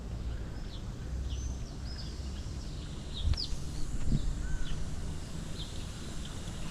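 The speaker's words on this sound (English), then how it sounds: "Birds using the fountain." Birds at a city fountain in Yerevan, Armenia, chirping in brief high calls over steady splashing water, with a couple of louder knocks midway through.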